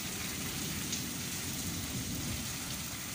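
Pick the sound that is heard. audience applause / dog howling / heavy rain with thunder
heavy rain with thunder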